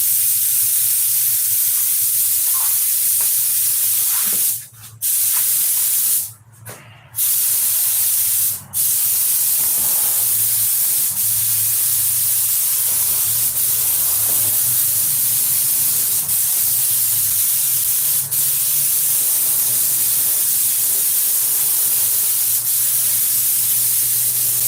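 Harbor Freight spray gun sprays in a loud, continuous hiss lasting many seconds, close and steady, broken only by a few brief pauses where the trigger releases.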